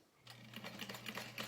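A sewing machine runs in a steady, close-up burst, topstitching the bottom panel of a tote bag with a reverse appliqué design. The stitching is rapid and even, with no talk over it.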